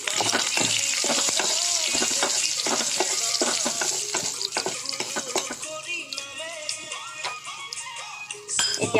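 Fermented bamboo shoot with turmeric, salt and green chillies frying in a pan over a gas stove, a loud steady sizzle broken by frequent clacking stirs and scrapes of the spatula.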